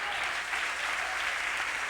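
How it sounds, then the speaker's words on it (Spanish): A church congregation gives a steady round of applause during a Spanish-language sermon, dense continuous clapping filling the room for the whole stretch. "Le damos una ofrenda de aplauso"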